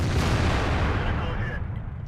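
A tank gun in World of Tanks fires a shell with one loud, close boom, and the blast rumbles off over about two seconds.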